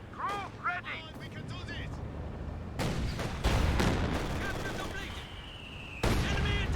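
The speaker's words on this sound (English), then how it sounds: "But Mortar just being a terror as usual." Game battle sounds from a Company of Heroes 2 match, with broadband blasts and crackling fire in bursts. A sharp onset lands near the middle and another near the end, and they sit under a commentator's running talk.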